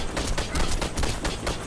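Rapid automatic gunfire from the video game Warface, dense bursts of shots rattling continuously and loudly throughout with no break.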